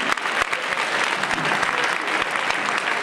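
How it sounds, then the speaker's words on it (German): An audience at a dance tournament in a Bremen dance arena claps loudly and steadily, a thick continuous patter of many hands with a few crisp nearby claps punctuating it. "da kann man klatschen"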